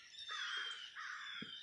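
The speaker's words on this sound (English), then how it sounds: "there was a crow." A crow calling outdoors: two harsh, drawn-out caws, fairly faint and distant, with no talking.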